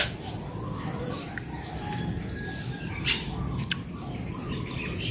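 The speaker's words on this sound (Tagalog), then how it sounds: "Maririnig mo, huni ng ibon" Birds chirp and sing faintly in a quiet outdoor setting, with scattered short calls over a steady background hum of insects and distant ambience.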